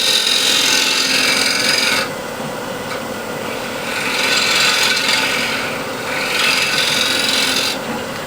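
A square scraper shears steadily across a large wooden platter spinning on a lathe, a loud continuous rasp that swells and eases in long passes with no talking.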